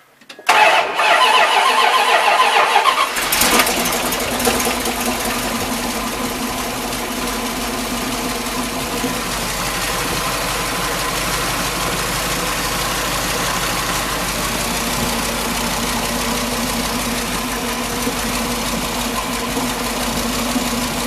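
A 1978 Dodge Warlock engine cranks briefly with a whirring starter, catches and fires, then settles into a steady, loud idle that runs on without a break, with no voices over it.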